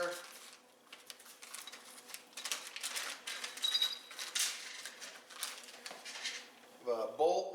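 Mirror mounting hardware, a bolt and nylock nut for a Honda Talon mirror, clicks and clinks in the hands as small metal parts are handled, with light taps and rattles while a person talks.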